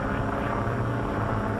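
An ambulance plane's propeller engine drones steadily in flight, a loud, constant, close roar filling the whole stretch without a break or any speech.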